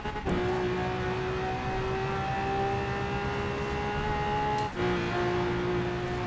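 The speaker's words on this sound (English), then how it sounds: "Yep, that's what we call a V12." A Lamborghini Aventador V12 in Forza Horizon 4 screams at high revs with a loud, sustained tone, cuts briefly on a shift, then climbs again, with no voices.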